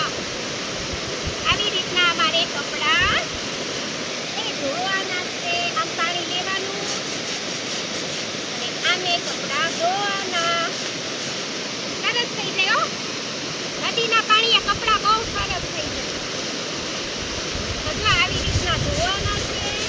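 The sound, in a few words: river water flowing while washing clothes at dam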